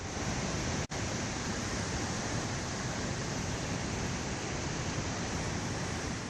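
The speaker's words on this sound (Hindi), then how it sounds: "और नदियां रौद्र रूप दिखा रही हैं, अपना शोर सुना रही हैं" Flooded rivers in Nepal after heavy monsoon rain roar with a steady, dense wash of rushing water, loud and continuous throughout, with a brief dropout near the start.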